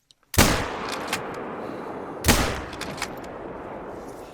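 A hunting rifle shot in theHunter: Call of the Wild cracks out sharply, followed about two seconds later by a second loud report, each trailing into a rolling outdoor echo.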